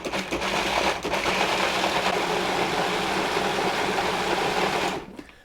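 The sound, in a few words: food processor pulsing flour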